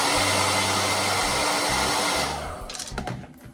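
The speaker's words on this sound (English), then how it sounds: "Ideal is to have a hairdryer to hand." Hair dryer blowing a steady loud whoosh for about two and a half seconds while drying paint on a hobby model of a black coach, then cutting out to quieter handling noises.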